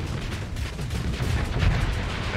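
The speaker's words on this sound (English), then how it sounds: "and I have a plasma cannon" A plasma cannon fires during a space-combat battle in the Starsector video game. A dense, loud wash of crackling bursts and booming impacts runs continuously without a break.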